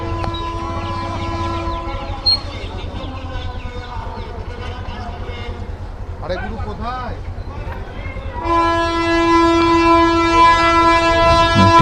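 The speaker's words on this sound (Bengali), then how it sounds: "ট্রেন চলে এসছে, হয়তো একটু পরেই খুলে যাবে রেলগেটটা।" A freight train rolls past a lowered railway crossing gate at a station, with a steady rumble and rattle of wagons, tonal horn or bell-like ringing, and a rooster-like call partway through, growing louder near the end.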